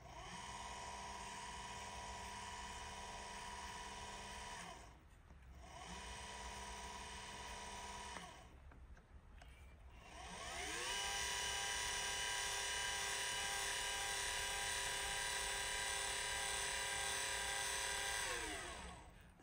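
A Celestron CGX telescope mount's motor and worm gear whir steadily with a high electric whine, stopping twice briefly before running again at a slightly louder level, close and alone.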